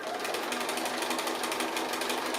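Sewing machine stitching a cat appliqué, a steady fast close-up whirring hum with a rapid even needle rhythm, running alone without talk.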